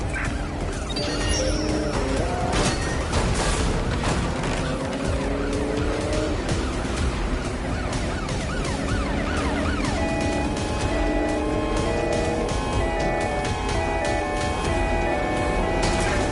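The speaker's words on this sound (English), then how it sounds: "I'm in pursuit of the target. Ready to ram the vehicle." A car in Watch Dogs Legion chases and rams a target vehicle: a loud, continuous engine roar with tyre skids, sirens wailing throughout, and repeated heavy crash impacts over about sixteen seconds.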